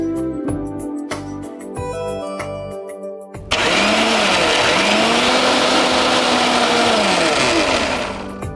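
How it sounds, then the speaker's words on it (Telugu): Mixer grinder whirring loudly as it grinds soaked dal for dhokla, a steady high-pitched motor drone that starts abruptly partway through after some background music and holds strongly to the end. "దీన్ని మిక్సీ పట్టేసుకుందాం"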